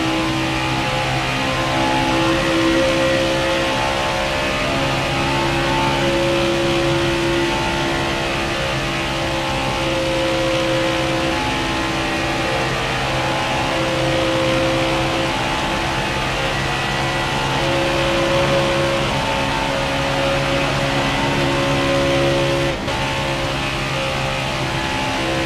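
Stock race cars in NASCAR Heat 4 roaring steadily at Atlanta, a loud, continuous, even engine drone held at high revs for the whole stretch, with no voices.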